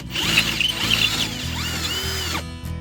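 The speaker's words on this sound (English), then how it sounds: "See it drilled through the wheel." Power drill boring through the steel hub of an old trailer wheel for a lug stud, a close, loud, continuous grinding whine with a wavering pitch that cuts off abruptly near the end.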